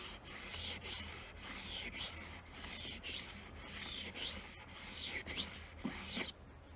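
A knife blade is drawn across a whetstone in repeated strokes, each a rough, gritty rasp, about nine of them at a steady rhythm, close and alone with no talking.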